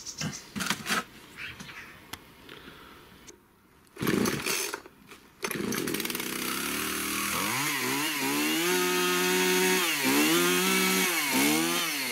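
A petrol chainsaw starts up and runs loudly and steadily, its engine note rising and falling as the throttle is revved, following a few seconds of voices and handling noises.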